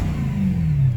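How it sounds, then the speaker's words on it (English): A 2008 BMW E92 M3 V8 with only a muffler back box revs loudly and steadily up close in a public park, its deep, continuous engine note rising slightly in pitch. "I'm gonna stop revving it until I get out of here because we're at a freaking public park."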